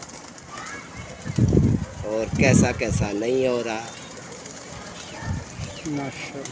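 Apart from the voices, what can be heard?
pigeons cooing and flapping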